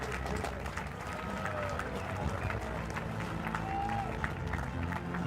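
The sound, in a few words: audience applause at rowing award ceremony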